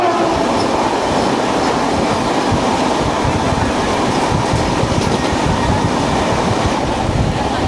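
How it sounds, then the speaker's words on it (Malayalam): The Solapur–Mumbai CSMT Vande Bharat Express rushes past close by in rain-soaked surroundings, a loud continuous roar with rapid wheel clatter and rumble that stays intense throughout. "ഈ പോയത് സോളാപൂർ മുംബൈ CSMT വന്ദേ ഭാരത് എക്സ്പ്രസ് ആണ്."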